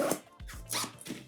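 A zipper on a travel bag is pulled in a couple of quick, close rasping strokes, brief and moderately loud with no voices.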